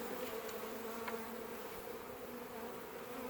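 A continuous, even hum of many honeybees buzzing, moderately close, as bees are shaken into a tub during a spring nucleus colony check, with a couple of faint clicks and no talking.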